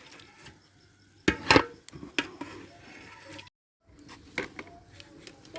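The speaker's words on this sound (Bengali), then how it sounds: "খিচুড়ি নাড়াচাড়া করা হচ্ছে।" Khichuri is stirred in a cooking pot: a few sharp clanks and scrapes of a spoon against the metal come in short bursts, separated by quiet stretches.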